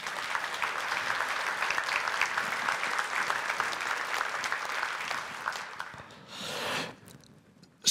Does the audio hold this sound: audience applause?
yes